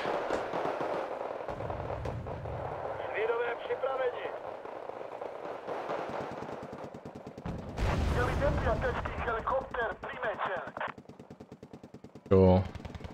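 Battle gunfire in Wargame: Red Dragon, with bursts of rapid machine-gun-like rattling and sharper shots in clusters, loud at times and fading in others, under someone talking through much of it.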